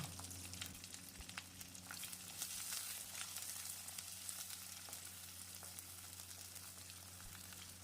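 Steady crackling sizzle of about 150 grams of small shallots frying in hot oil for chicken curry, continuous and fairly soft, with no voices.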